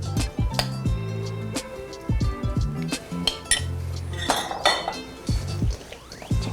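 Cobb salad with tomatoes being tossed in a bowl, giving repeated clinks and scrapes of utensils against the dish at close range, with no talking.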